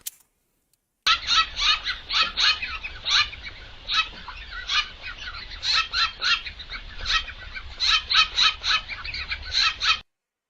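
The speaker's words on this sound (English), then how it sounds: "those are Stellar Jays, and Stellar Jays are probably one of my favorite birds" Steller's jays at a bird feeder give repeated harsh, raspy calls in quick bursts, fairly close and loud, with short pauses between volleys and no talking.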